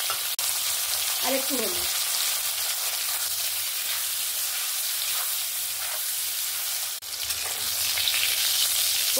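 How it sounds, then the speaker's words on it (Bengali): Pointed gourd fries with a little salt in a pan, giving a steady, hissing sizzle throughout. A spoon knocks once near the middle, and a voice speaks briefly early on. "প্রথমে আমি পটলটা ভেজে নেব"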